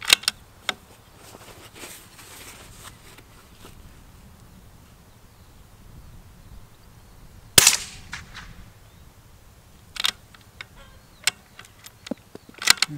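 A few sharp, isolated .22 rimfire gunshot cracks from a Bergara B14 HMR Carbon rifle outdoors, spaced several seconds apart, the loudest near the middle, with quiet rustling between shots.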